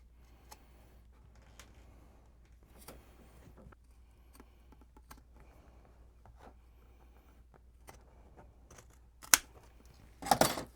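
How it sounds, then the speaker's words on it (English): Quiet, sparse snips and clicks of scissors cutting through a tough material, ending in a few louder, crunchier cuts close by. "So for this, I'm just going to use scissors."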